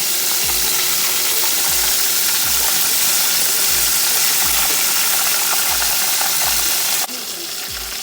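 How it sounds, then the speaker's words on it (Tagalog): Chicken double frying in hot oil for crispness, a loud, dense continuous sizzle with a faint regular low thump repeating about every second, dropping slightly in level near the end. "Double fry na natin para mas crispy siya."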